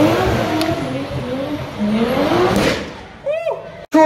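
A Nissan S15 drift car at a Waimate 50 street drifting event revs hard and accelerates, engine note rising and falling, with a brief tire squeal near the end and a commentator talking over it.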